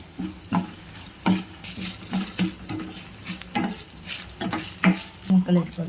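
A spoon stirs and scrapes a paste frying in a pan for a drumstick and tomato curry, giving close, rhythmic strokes over a steady sizzle, with no talking.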